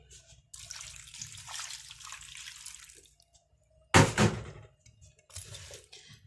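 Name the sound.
water poured into cooking pot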